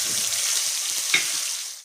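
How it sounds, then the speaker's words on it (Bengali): A paste of dried red chilli, ginger, cumin and coriander fries in hot oil, making a loud, continuous close sizzle with a brief sharper spit near the end before it cuts off, no voices. "এবার আমি দিয়ে দিলাম পেস্ট করা ছিল আমার শুকনো লঙ্কা, আদা, জিরে আর ধনে, এগুলোকে আমি দিয়ে দিলাম গরম তেলের মধ্যে।"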